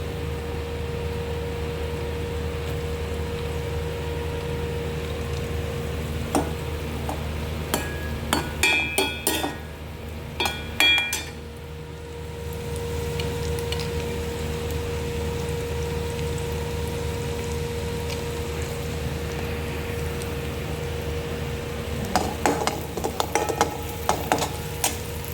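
Garlic sautéing in a pan for chicken fried rice, a soft continuous sizzle with scattered stirring clinks and scrapes, under a steady low hum.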